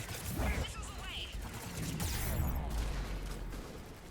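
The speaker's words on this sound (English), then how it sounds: "Missiles away." Missiles fire from a ship in the video game Mass Effect 3 as a run of loud, rumbling bursts and crashes over a dense battle din, with voices talking throughout.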